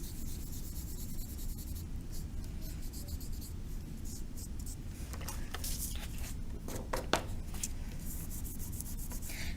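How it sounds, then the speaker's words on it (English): Soft, close scratchy rubbing strokes on paper, repeated in short passes, like blending charcoal with a paper stump. "Just blend that out with our paper blender here."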